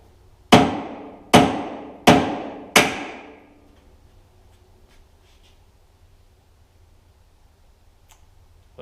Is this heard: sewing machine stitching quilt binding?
no